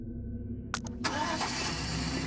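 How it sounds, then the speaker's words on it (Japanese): An electric car in the Roblox game gives a short engine-start burst, then settles into a steady, moderately loud engine hum that runs to the end. "電気自動車なのにエンジン音、"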